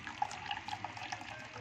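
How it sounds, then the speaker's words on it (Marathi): Water is poured into a thick kokum solkadi mixture to thin it, giving a soft, faint trickling and splashing that runs throughout without talk. "त्याच्यामध्ये आपण थोडंसं पाणी टाकणार आहोत."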